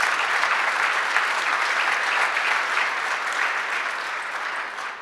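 Sustained audience applause fills a convening on violence prevention, a dense crowd clapping steadily and loudly throughout, easing slightly toward the end.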